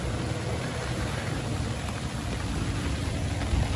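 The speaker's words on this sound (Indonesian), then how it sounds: "Hujannya mulai turun" Rain beginning to fall at a roadside on the Kletes hilltop, a dense steady hiss with low traffic rumble underneath and no talking.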